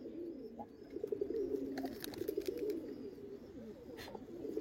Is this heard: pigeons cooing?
yes